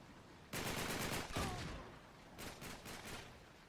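Automatic gunfire in the video game Uncharted 3, two rapid bursts of loud close shots in quick succession with a short gap between them.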